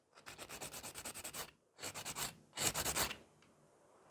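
A file is worked on a natural fingernail in three quick bursts of rapid rasping strokes, close and crisp, with brief pauses between bursts.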